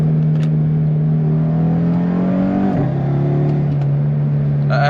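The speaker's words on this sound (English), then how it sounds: "The turbo noise is absolutely insane, and you just get that beautiful, you know, 5-cylinder roar out of the exhaust." Inside an Audi RS3 with a turbocharged five-cylinder engine, a steady droning engine note holds, dips as a gear changes midway, then settles lower, with faint ticks and clicks in the cabin.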